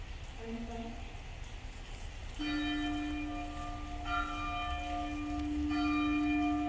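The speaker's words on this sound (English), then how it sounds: "Bells." Church bells ring out in a stage play, a sustained resonant tolling that swells after a brief lead-in with a faint earlier chime, with voices also present.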